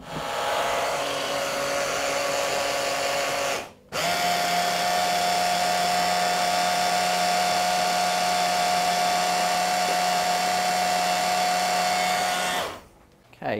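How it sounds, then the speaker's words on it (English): A small blender whirs a curry paste with fish sauce, running loudly and steadily in two long bursts separated by a brief pause, with no talk. "grab our blender in"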